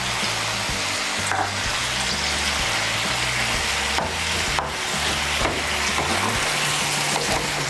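Ginger paste sizzles steadily in hot oil in a pan for a vegetarian raw pumpkin curry, a dense, continuous fry with faint scraping of stirring throughout.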